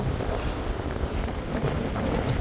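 Strong wind buffets the microphone on a beach in a continuous low roar and rumble, loud and close, with no voices.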